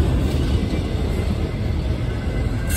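A northbound CSX coal freight train rolls past in Glendale, Ohio, its end coming into view; a steady, loud low rumble and rolling noise hold throughout with no talking.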